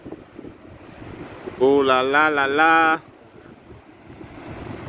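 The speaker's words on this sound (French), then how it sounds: "Regardez les vagues." Wind and waves wash onto a seafront beach with a steady, rough rush of surf, while a person's loud, drawn-out exclamation briefly rises over it near the middle.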